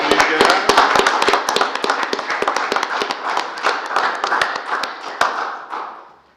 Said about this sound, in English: Give a round of applause for these guys.